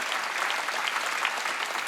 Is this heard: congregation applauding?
yes